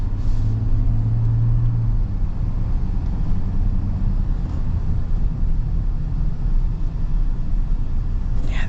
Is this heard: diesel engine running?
yes